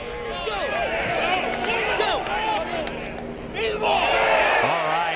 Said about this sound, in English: That was the groan of a couple of thousand people